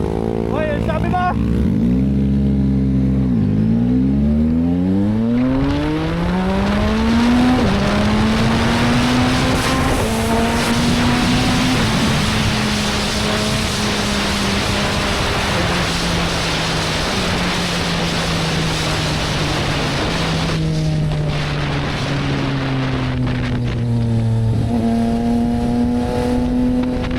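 Yamaha XSR 155 motorcycle engine revs loudly up and down, close by, its pitch climbing and falling in sustained sweeps over a steady exhaust drone.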